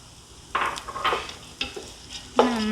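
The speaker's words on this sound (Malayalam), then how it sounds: "അപ്പോൾ നമ്മുടെ അരി ഞാനിവിടെ ഫ്രൈ ചെയ്യാൻ തുടങ്ങിയിട്ട് ഒരു 7-8 മിനിറ്റ് ആയിട്ടുണ്ടായിരുന്നു" Rice being stir-fried in a pan for Kerala-style chicken dum biryani, with several bursts of scraping and sizzling as it is stirred, close and fairly loud, with no talking.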